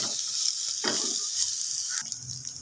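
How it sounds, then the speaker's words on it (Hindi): Chicken coated with turmeric frying on low heat in a pan, giving a steady soft sizzle with occasional stirring scrapes and a brief clatter near the end. "अच्छी तरह हम इसकी बुनाई कर रहे हैं।"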